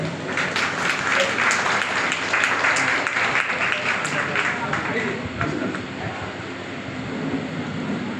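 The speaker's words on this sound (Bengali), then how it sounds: "একটু জোরে করতালি দিয়ে অভিনন্দিত করবেন" An audience at a neighbourhood community meeting in Sonarpur claps together in dense, sustained applause that holds steady for several seconds before gradually thinning out.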